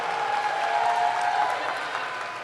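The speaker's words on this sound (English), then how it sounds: "Usually I get applause when I say conclude" Commencement ceremony audience breaking into steady applause, a dense wash of many hands clapping with some murmuring voices mixed in, sustained and fairly loud throughout.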